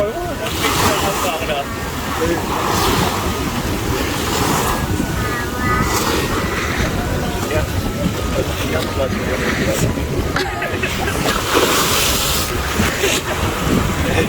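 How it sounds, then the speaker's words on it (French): Rough sea surges against rocks and the seawall at Wimereux on the French coast, a loud, continuous roar of crashing waves with strong wind buffeting the microphone. "l'eau monte assez haut et comme t'as vu, les vagues montent assez haut, carrément presque à nos pieds"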